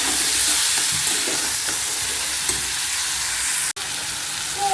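Onion, green chili and tomato sautéing in a hot pan for a bitter gourd curry, giving a loud, steady broadband sizzle with faint stirring scrapes and one sharp momentary break near the end.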